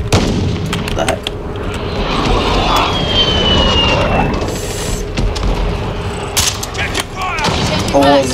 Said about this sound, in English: So someone's shooting.